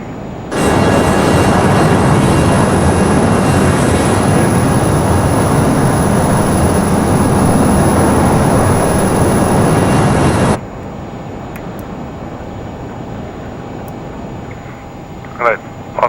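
A Learjet 35A taking off in Microsoft Flight Simulator, a loud, steady jet-engine roar that cuts off sharply after about ten seconds to a quieter cockpit hum with faint clicks.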